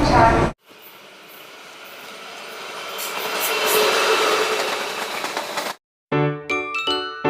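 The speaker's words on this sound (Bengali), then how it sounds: "7 নম্বর আমাদের ট্রেন দিয়েছে, বর্ধমান 3 পাহাড় প্যাসেঞ্জার লোকাল।" At platform 7 of Bardhaman station, the rumble of a passenger local train swells and fades over several seconds, then a station chime rings out, with voices talking nearby.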